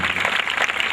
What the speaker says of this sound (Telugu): ఒకసారి చప్పట్లు కొట్టి స్తోత్రాలు చేద్దాం